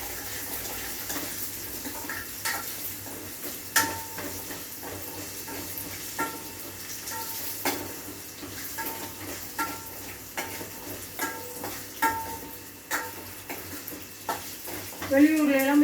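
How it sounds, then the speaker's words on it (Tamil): Garlic with a pinch of salt sautéing in a pan, a soft steady sizzle with occasional stirring scrapes under faint background talk. "பூண்டு கொஞ்சம் நல்லா வதக்கணும்."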